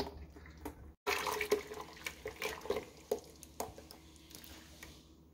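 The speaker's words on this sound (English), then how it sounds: "Cooling it off, pouring it back and forth." Thick starch gel is poured back and forth between bowls at a sink, giving faint, quiet glugs and wet splashes in irregular bursts separated by short pauses.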